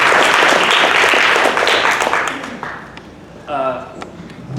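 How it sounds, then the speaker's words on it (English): Audience applauding panelists at the close of a public forum on powering the North Country, loud sustained clapping from a crowd that fades out over several seconds, followed by a brief voice at the end. "please give a round of applause for all of our panelists."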